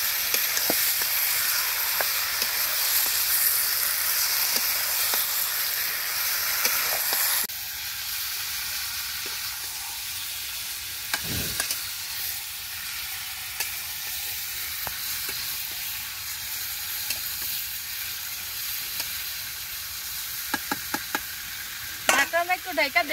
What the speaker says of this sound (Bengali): মাংসটা খুব ভালোভাবে কষিয়ে নিব।